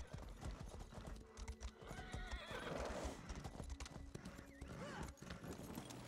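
In the video game The Elder Scrolls Online, hooves clip-clop in a quick galloping rhythm while a horse whinnies loudly a couple of times, with faint voices in the background.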